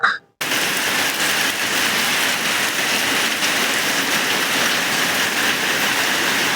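Heavy rain pours down in a dense, unbroken roar, loud and steady throughout after a brief sound at the very start.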